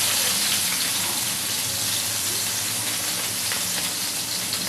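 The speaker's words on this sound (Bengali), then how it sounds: "এবার আমি এটাকে তেলে দিয়ে ভেজে নেব।" Chopped onion fries in hot oil with a loud, dense, continuous sizzle that hisses evenly from start to finish, close up and with no voices.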